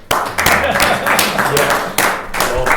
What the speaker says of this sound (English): the audience should applaud